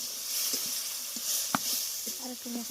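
Duck meat curry cooks in a pan with a soft, steady sizzle as it is stirred, broken by a few light clinks and scrapes of the utensil against the pan.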